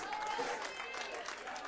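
A baseball crowd at a Sonoma Stompers versus Pittsburg Diamonds game clapping and cheering for the pitcher, a steady wash of applause from the stands, fairly faint and distant, with an announcer talking.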